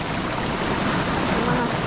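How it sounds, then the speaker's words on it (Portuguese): A steady hiss of falling water from an 80-metre waterfall in the Camboriú natural pools, a dense, even roar heard from some distance. "o barulho de cachoeira deve estar muito alto"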